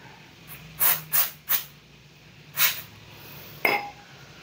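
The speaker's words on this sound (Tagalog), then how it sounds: "Ito brake cleaner." Brake cleaner is sprayed onto the brake pad of a 2010 XRM 125 motorcycle. Several short hissing bursts come in an uneven rhythm, close and moderately loud, and a light metallic clink follows near the end.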